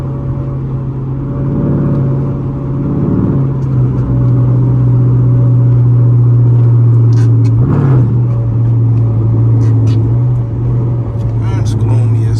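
A 2013 Chrysler 300C drives along with newly fitted front tires, giving a steady, close engine hum and road rumble from inside the cabin that swells briefly midway, with no talking over it.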